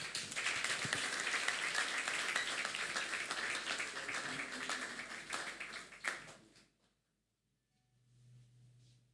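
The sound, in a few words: congregation applauding in church service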